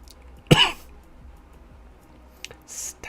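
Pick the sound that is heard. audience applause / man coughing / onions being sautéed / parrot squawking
man coughing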